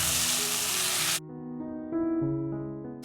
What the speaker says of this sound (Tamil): மஷ்ரூம் ஒரு நிமிஷம் வதங்கட்டும்.